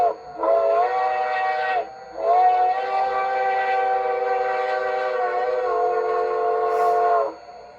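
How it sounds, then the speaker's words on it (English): An LGB 2019S Silver Lake Express model train's whistle blows in a short blast, pauses, then sounds one long sustained tone, loud and clear with no talking. "F3 is a whistle, what is called a long whistle"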